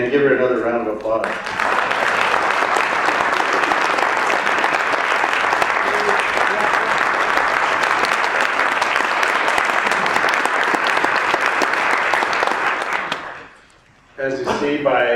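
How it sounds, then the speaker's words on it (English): Audience at a keynote address breaks into sustained loud applause for nearly fourteen seconds, fading out near the end before a voice resumes speaking briefly. "Give her another round of applause."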